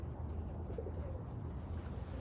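Racing pigeons and Birmingham roller pigeons at a loft, with a soft low coo and faint bird calls over a steady outdoor rumble.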